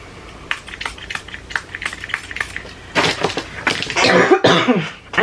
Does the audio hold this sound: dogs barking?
no